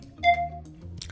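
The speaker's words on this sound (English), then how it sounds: "I'll include a pinging sound like this." A single short electronic ping tone marking the start of a new exercise in a Total Gym upper body workout, clean and clear with near silence around it.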